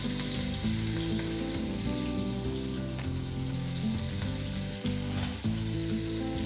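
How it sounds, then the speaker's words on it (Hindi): Pieces of lamb browning in bubbling butter in a pan for a Moroccan tagine, giving a steady, dense sizzle and crackle close up, loud and continuous with brief pops and no talking. "मैं इसमें थोड़ा बटर डाल रहा हूँ बटर बबल होते होते उसके साथ में ही हम अपना लैम को करेंगे अच्छे से ब्राउन"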